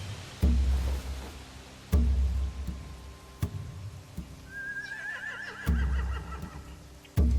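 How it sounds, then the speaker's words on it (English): A horse whinnies with a wavering, descending neigh amid low thuds and clopping sounds, set against a faint ambient background, in the video game The Walking Dead: The Final Season. "They have horses."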